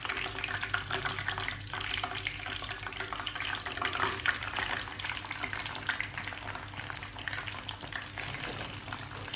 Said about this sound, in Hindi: और इसको लो फ्लेम पे हम इसको फ्राई करेंगे।